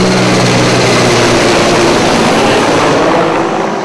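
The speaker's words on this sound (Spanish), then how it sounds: "Y siguen sobrevolando los helicópteros." Helicopters fly low over a rural camp of coca farmers' tents in Nariño, Colombia, a loud continuous rotor and engine roar filling the scene throughout, steady and close overhead with no voices.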